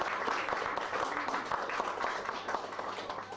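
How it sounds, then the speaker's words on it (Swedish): Steady, dense applause from a jazz concert audience in Stockholm, honoring the saxophone players of a swing band; continuous clapping without pauses that stays loud and even throughout, with no talking over it. "så undrar vi inte Göran Eriksson borde få en stor applåd."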